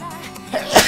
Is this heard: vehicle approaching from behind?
no